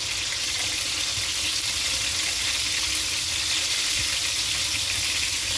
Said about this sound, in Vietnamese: Cái này chiên sơ chứ đâu phải chiên giòn ha.